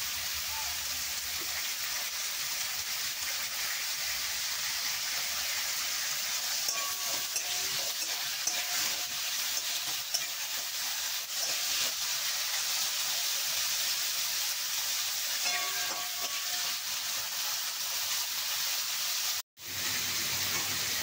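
Carrots sizzle as they fry in a pan with a little turmeric, a faint, continuous crackling hiss with occasional stirring scrapes, ending in a brief silence.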